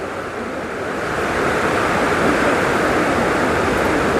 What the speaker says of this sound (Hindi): और ये नीचे सरस्वती नदी।